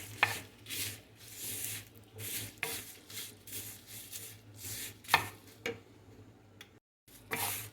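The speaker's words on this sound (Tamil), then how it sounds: "கருவேப்பிலையும் நல்லா ஃப்ரை பண்ணிடலாம்" Curry leaves dry roasting in a pan for South Indian idli powder, giving soft rustling crackles and light stirring scrapes with a few sharp ticks, close and steady without talk.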